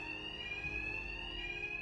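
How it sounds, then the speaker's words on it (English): An alarm ringing during a heist in the video game Batman Arkham Knight, a steady electronic tone sounding continuously at moderate level with faint background game noise beneath it. "My attacks will be covered by the noise of the alarm."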